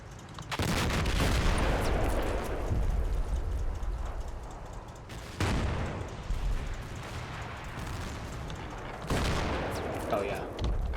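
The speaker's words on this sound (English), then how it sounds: "That's definitely mortar fire coming in" Heavy mortar impacts and gunfire in a video game battle, with repeated booming blasts at close range and rolling rumbles and crackling shots filling the whole stretch, a voice talking underneath.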